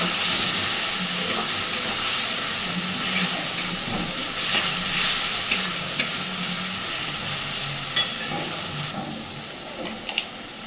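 Spice paste with Kashmiri chilli powder frying in a pan for a banana-flower kofta curry after a splash of water is added, giving a steady close sizzle and hiss with occasional stirring clicks, no talking.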